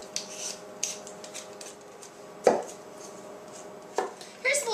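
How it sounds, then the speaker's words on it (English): A few sharp knife strokes chop through a potato on a cutting board, spaced irregularly with quiet gaps, close by and fairly soft. "I'm actually going to cut up this potato"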